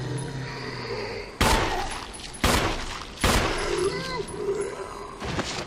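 Pistol shots fired at zombies in the Resident Evil HD Remaster video game, three loud sharp bangs at roughly one-second intervals over a low game ambience, with someone talking between the shots.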